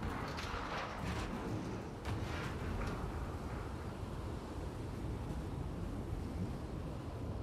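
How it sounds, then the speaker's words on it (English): Strong wind in a stormy scene of the video game The Last of Us Part II roars steadily through the whole stretch, a dense broadband rush with occasional louder gusts and no voices. "Pretty windy."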